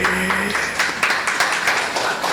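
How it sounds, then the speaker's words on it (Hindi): An audience at a Jain sermon claps in scattered, uneven bursts, a close, fairly loud patter of hands that rises and falls over a steady background hum. "ताली बजाने से काम नहीं चलेगा।"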